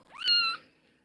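A yellow kitten gives a single loud, rising meow lasting about a third of a second, close by with no talking.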